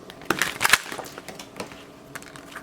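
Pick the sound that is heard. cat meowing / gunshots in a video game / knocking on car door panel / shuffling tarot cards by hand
shuffling tarot cards by hand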